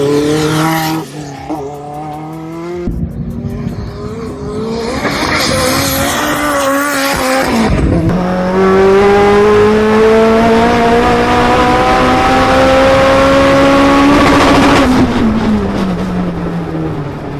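Turbocharged Honda K24Z race car accelerating hard through gears with rising engine pitch and sustained tire squeal, loud and close, with no talk.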